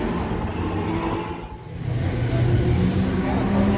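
A vintage 16-cylinder car engine rumbles nearby in a deep, continuous growl, dipping briefly before swelling into a louder, fuller roar.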